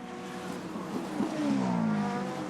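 Super Formula race cars at SUGO on the final lap of the 2019 round, with a steady high-pitched engine whine rising in pitch as a car passes at moderate distance.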